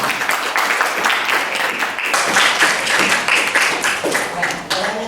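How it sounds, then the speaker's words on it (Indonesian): A classroom of students claps together for a good question, a busy patter of hands that swells slightly midway. A voice can be heard alongside. "berikan tepuk tangan."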